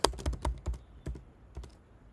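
A computer keyboard clacks as a shortcut is entered, with a quick burst of close, sharp key presses followed by a few more scattered taps, quiet and without talk.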